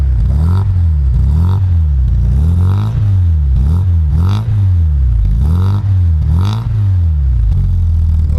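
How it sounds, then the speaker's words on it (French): Volkswagen Golf 2 GTI 16V engine revved in a series of short throttle blips held under about 4000 rpm, each rise and fall repeating close and loud, with faint voices in the background. "Donc je vais vous faire écouter le bruit. Tiens Valentin, tu mets quelques petits coups de gaz, dépasse pas 4000"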